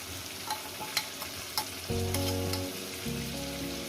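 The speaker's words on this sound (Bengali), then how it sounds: "চিকেনটাকে আমি ভেজে নিয়েছি এরপর দিয়ে দেবো মশলাটা" Spice paste going into a pan of fried chicken, a bright continuous sizzle with sharp spatters and stirring scrapes, joined midway by a steady tonal hum, close up with no talking.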